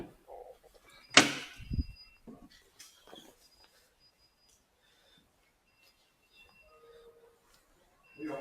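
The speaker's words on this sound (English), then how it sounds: "Open the back doors up." The back doors of a camper van swing open with a clunk and a short rattle, followed by a few quieter knocks and handling sounds, and faint voices nearby.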